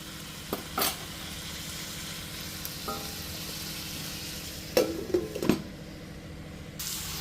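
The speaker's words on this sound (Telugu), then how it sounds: "కూర మగ్గుతోంది మధ్యలో తీసి ఇలా కలుపుకుంటూ ఉండాలి" Cabbage curry with ginger and green chilli simmers softly in a pan, a faint steady hiss broken by a few metallic clinks and scrapes from stirring, and one heavier knock of the pan or lid.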